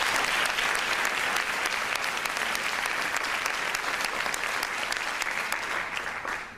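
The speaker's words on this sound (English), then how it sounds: "And clap for that." Dense audience applause at an education talk runs steadily throughout, many hands clapping together at an even level before fading at the end.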